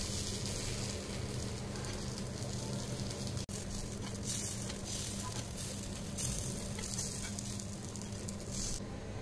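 White jowar paniyaram fry in a paniyaram pan with a continuous crackling sizzle, joined by a brief sharp tap as the pieces are turned over.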